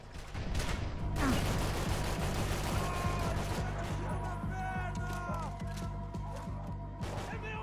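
Loud, dense gunfire from a Max Payne 3 shootout, with rapid overlapping shots, heavy impacts and crashes that run almost without pause for several seconds.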